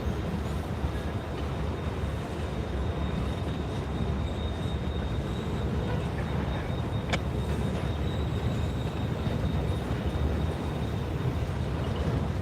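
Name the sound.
CSX freight train passing on the W&A sub pass-through track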